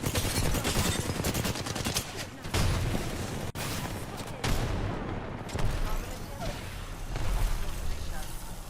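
Dense rapid gunfire from a shooter video game rattles in sustained automatic bursts with occasional heavier booms, loud and continuous, with a voice speaking over it.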